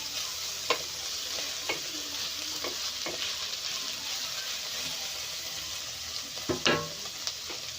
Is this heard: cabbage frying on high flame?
yes